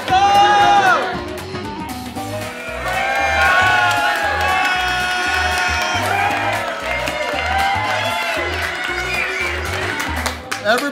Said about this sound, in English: Everybody is cheering for me to get the record